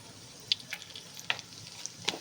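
Curry leaves and Malvani masala dropped into hot oil give a soft steady sizzle with sharp crackling pops and spits scattered through it, close up and without talk.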